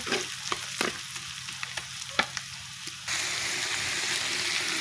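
Ground chili paste stirred and fried in a pan for a freshwater rohu fish curry, sharp scraping strokes over a sizzle that swells into a louder, steady frying hiss near the end.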